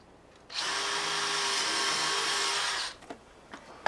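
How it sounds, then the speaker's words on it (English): A power drill whirs steadily through plastic on a play structure for a couple of seconds, then stops, followed by a few small clicks and knocks. "So I'll drill both sides"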